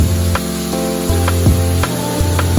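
Grated zucchini goes into a hot pan of well-browned meat and softened carrots, setting off a loud, steady sizzle close to the mic, with a few faint scraping clicks over it and no talking.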